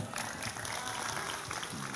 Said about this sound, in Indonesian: Tepuk tangan untuk Pak Dani.